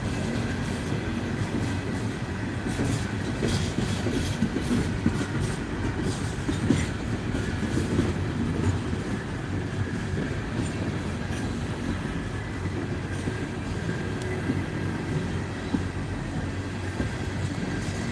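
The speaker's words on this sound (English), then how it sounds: "Nice, long, empty train." A long empty freight train rumbles steadily past nearby at St. Albans for a long stretch, with continuous rolling wheel noise and occasional clicks over rail joints.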